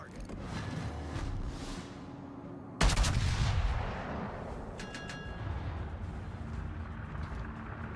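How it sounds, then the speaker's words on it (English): Warship guns firing in the naval combat game World of Warships: a sharp, loud main-battery boom stands out near the middle over a steady background of ship rumble, with faint distant reports before and after. "All stations, concentrate fire on the target."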